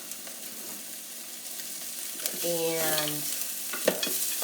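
Onion and paprika sizzle in butter in a pan, a steady, fairly quiet frying hiss throughout with a little stirring, and a brief spoken word near the start.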